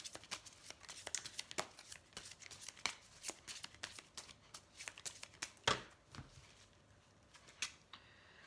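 Tarot cards shuffled by hand at close range, a quick run of crisp riffling flicks and taps followed by a single louder snap and then quieter handling.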